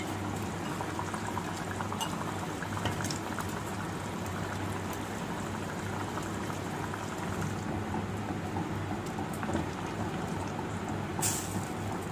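Sardine curry with oil risen to the top boils steadily in a pan, a continuous close bubbling and popping that runs the whole time with no voices.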